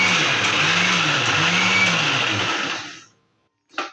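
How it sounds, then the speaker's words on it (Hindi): A kitchen mixer grinder whirs loudly as it blends boiled spinach. It makes a steady high motor whine with a wavering pitch for about three seconds, then stops, and a brief short burst follows. "और हम चलाएंगे मिक्सी।"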